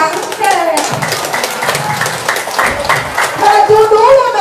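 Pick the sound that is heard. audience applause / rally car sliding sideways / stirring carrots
audience applause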